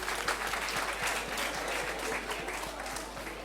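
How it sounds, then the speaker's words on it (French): Steady applause from a school audience at a high-school quiz competition, dense and continuous for several seconds, heard from the room at a moderate, even level with no talking over it. "Applaudissez pour elle."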